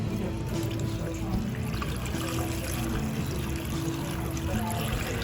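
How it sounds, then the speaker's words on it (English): Roughly a gallon of water pours into a pot holding onions and other ingredients for turkey stock, a steady, continuous rushing splash heard close and alone throughout. "Then I am going to top this off with about a gallon of water."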